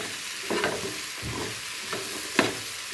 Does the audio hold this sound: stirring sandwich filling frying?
yes